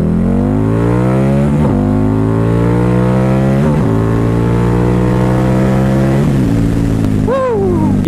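A Harley-Davidson V-Rod motorcycle engine while riding, loud and close, revving up through the gears with rising pitch, a brief drop at each shift, then easing off near the end.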